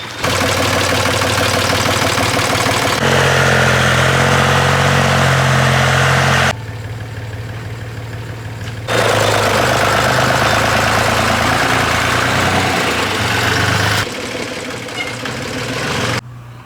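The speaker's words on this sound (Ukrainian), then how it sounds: "к нам приїхав тракторець орати" A small tractor engine runs steadily and loudly nearby while ploughing a village garden, its chugging drone shifting in pitch and load now and then without pause.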